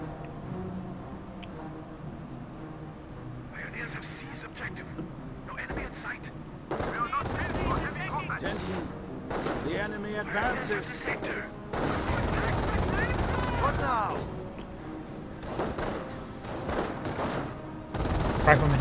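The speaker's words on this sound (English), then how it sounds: "MG42 here has been set on up, maybe trying to draw into the MG42 to suppress them." MG42 machine gun fire from the World War II strategy game Company of Heroes, sustained rattling bursts among other battlefield gunfire and explosions, dense and loud throughout with talk faintly underneath.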